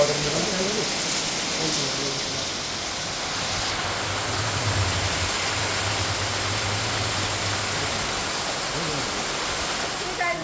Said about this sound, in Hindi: इतनी तगड़ी बारिश पड़ रही है भाई इसका